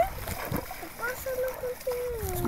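A delivery vehicle splashes through deep water on a muddy road, with sloshing bursts under a voice talking throughout.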